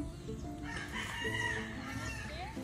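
Chickens on a small farm in the Philippines, with a rooster crowing and birds clucking at moderate distance, faint against a steady background hum, no voices.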